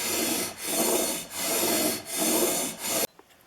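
A plane iron bevel is being sharpened, making four close, rhythmic back-and-forth rasping strokes of steel on an abrasive surface, each with a brief pause, before falling quiet.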